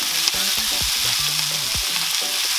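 A batch of chicken pieces for fajitas fries in a pan with a loud, steady sizzle and hiss, while low tonal sounds of stove or room hum drift underneath.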